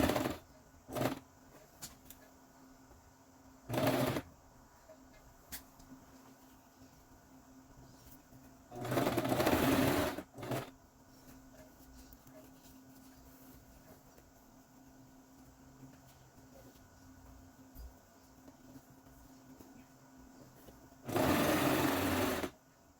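A sewing machine stitches an elastic waistband in several short, quiet bursts of rapid whirring, separated by pauses and a few soft clicks.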